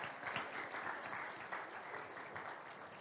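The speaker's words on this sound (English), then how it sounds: "Give them a big clap" An audience claps at a talk, a dense sustained round of applause that stays steady and fairly loud throughout, with no voices over it.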